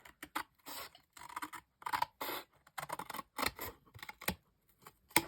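Scissors cut through packaging in quick, crisp snips and slicing strokes, close up, in irregular bursts with short pauses between them.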